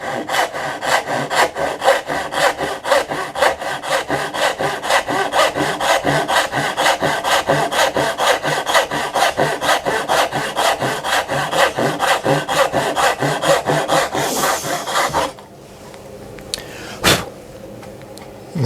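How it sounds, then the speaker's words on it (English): A fine-toothed dovetail hand saw cutting through wooden molding, with fast, even back-and-forth rasping strokes close up for about fifteen seconds before the sawing stops and a quieter pause follows. "I'm using a dovetail saw here, so that it's got a thinner tooth count"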